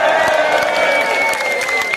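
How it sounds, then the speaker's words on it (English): Concert crowd cheering and applauding at Epic Studios Norwich, a steady dense roar of voices and clapping that fills the whole moment with no break. "I love how that always gets a cheer."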